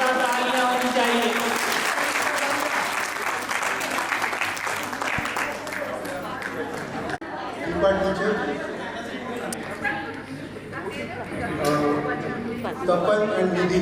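At a school class silver jubilee reunion, an audience claps warmly for their teachers, a lively burst of applause mixed with crowd chatter and voices that swells, dips and rises again.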